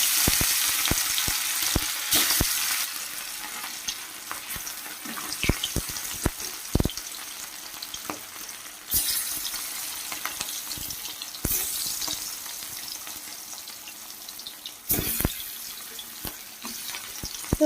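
Rohu fish pieces fry in very hot oil in a wok, giving a steady close sizzle with bursts of louder crackling spatter as pieces go in, plus scattered clicks and knocks.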